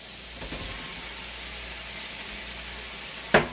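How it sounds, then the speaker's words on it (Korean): Sliced zucchini sizzles in a pan with onions as it is stir-fried, a steady soft frying hiss with a sharp clack of a utensil near the end. "양파 완전 다 익을 때까지 볶아주시고 애호박 넣어줄게요"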